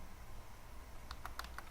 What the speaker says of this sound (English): I will try to open here by typing the gp edit again